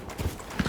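Charging cow's hoofbeats in Resident Evil 4 Remake, a few heavy thudding clip-clop steps close by over a busy game background.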